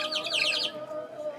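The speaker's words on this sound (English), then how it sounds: "Put water in it, and then you blow in it, and it makes the bird sound." A ceramic water whistle blown at an outdoor ceramics festival in Tuscany gives a warbling, bird-like trill for about half a second, then a quieter steady tone with background murmur.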